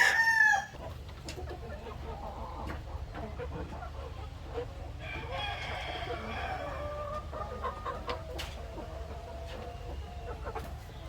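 Barred Rock chickens clucking on a farm, with a loud rooster crow at the start followed by scattered clucks and a second drawn-out crow midway, close by over a low hum.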